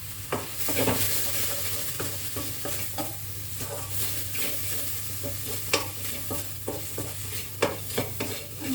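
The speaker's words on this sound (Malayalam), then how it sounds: "മസാലയൊന്ന് മണം മാറാനായിട്ട് ചൂടാക്കിയിടാം." Repeated scraping and stirring of a spoon through spice masala in a hot pan, with a soft, continuous sizzle underneath.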